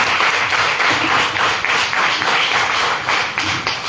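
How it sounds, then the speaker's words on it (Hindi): Loud, sustained applause from a seminar audience greeting first-time guests, dense steady clapping filling the room for several seconds with no break. "सबसे पहले तो मैं चाहूंगा हमारे सभी पुराने साथी से एक जोरदार ताली हमारे नए मेहमान के लिए"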